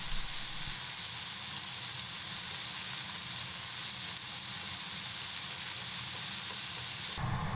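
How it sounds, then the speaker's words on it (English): Yakitori skewers sizzle on a hot plate in a steady, dense crackling hiss that continues without pause. "Grill on a hot plate or in frying pan."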